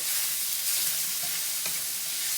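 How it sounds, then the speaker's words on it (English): Chicken stir-frying in a pan gives a steady, close hiss of sizzling with a few faint stirring scrapes, no voices. "And you stir fry it until it turns, all the pink goes away."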